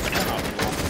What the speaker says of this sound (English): oh, this shooting is really that insane stuff, man